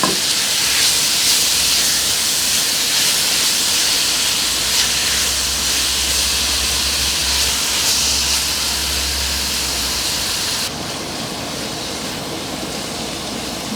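Diced onion sizzling with meat in a pan, a steady loud broadband hiss of frying that runs continuously and drops slightly in level near the end.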